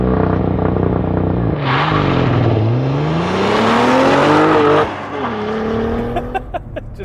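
A 2023 Cadillac CT4-V Blackwing at full throttle, its engine note climbing loudly through the revs with a brief dip at a flat-foot shift, then pulling again before easing off, heard from inside the car.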